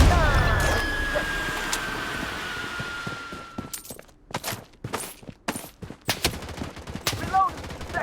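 Gunfire from the shooter game Blood Strike, starting as a steady rattling burst and then breaking into sharp, separate loud shots with short gaps between them, mixed with game effects and no talking.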